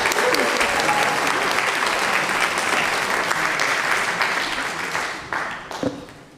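A church congregation applauding Valerie at a Sunday morning service: full, dense clapping from a large group that holds steady, then tapers off into a few scattered last claps.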